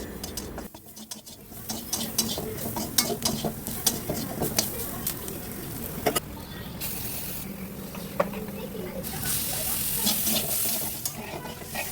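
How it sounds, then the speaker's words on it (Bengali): Prawns cook with spices in a pan, a continuous sizzle broken by frequent scraping and tapping of a stirring spoon, close and steady over several seconds. "এই যে সব মশলাপাতি দিয়ে সুন্দর মতো চিংড়ি মাছটা রান্না করে নিচ্ছি"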